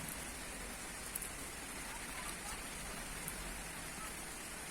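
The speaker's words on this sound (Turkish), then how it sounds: "Vallahi yağmurun hiç dinmeye niyet yok." Steady rain pours down without pause, a dense hiss of drops striking surfaces close by, with no voices.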